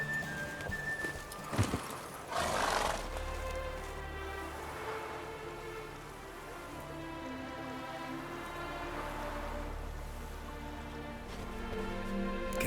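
Roach, the horse in The Witcher 3, gallops with a steady drumming of hooves under a constant rain-like wash, softer and more distant than the game's dialogue, with a brief louder burst early on.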